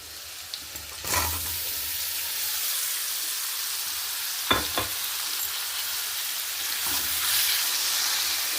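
Mushrooms frying in a pan for a dhaba-style cashew mushroom curry, a steady close sizzle with a few sharper bursts as they are stirred, no talking.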